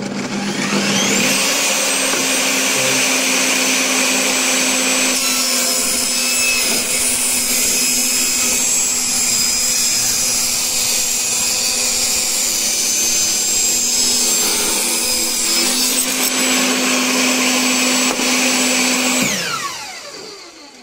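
Table saw running steadily at close range and loud, ripping thin wood strips about 3 millimeters thick, with a continuous high whine and a slight change in pitch midway before it winds down at the end.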